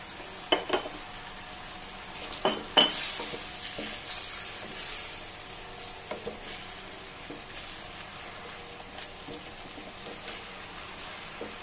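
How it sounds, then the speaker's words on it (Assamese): Spices stirred in a cooking pan over a soft continuous sizzle, with scattered scraping clicks and spoon knocks, close and fairly quiet, no talking. "ভালদৰে মই লৰাই ল'ম, মিক্স কৰি ল'ম।"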